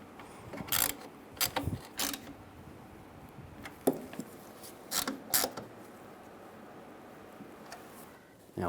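Ratchet tightening headlight mounting bolts on a 1998-2010 Volkswagen Beetle, several short quiet bursts of clicking spaced out over a faint background hush.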